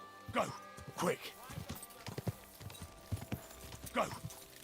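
Horse hooves clip-clopping in the video game Kingdom Come Deliverance II, a quick uneven rhythm of close, moderately loud strikes with a snort or whinny mixed in.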